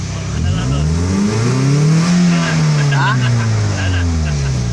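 A Toyota Vios engine, misfiring and starved of fuel, revs up and down close by in a loud, uneven drone that swells and falls across the whole stretch.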